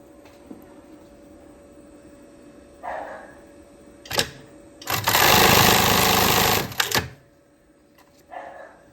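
Stitching a panty strap, a sewing machine gives one loud, dense burst of about two seconds, with sharp clicks just before and after it and quieter rustling at either end.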